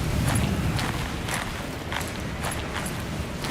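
Footsteps crunch over icy ground in the video game Death Stranding 2, a steady series of crisp, gritty crunches heard over a constant wind-like rush.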